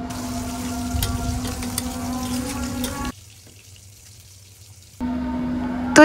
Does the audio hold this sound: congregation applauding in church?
no